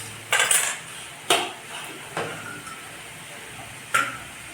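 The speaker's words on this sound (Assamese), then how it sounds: "ঢাকনিৰে ঢাকি দিলে হৈ যাব।" A metal lid is set on a cooking pot on a gas stove while a meal is being made, giving a few sharp clanks and clinks spaced apart in a quiet kitchen.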